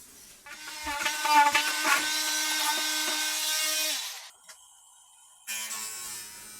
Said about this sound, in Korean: 홀소로 이렇게 작업을 구멍을 뚫은 이후에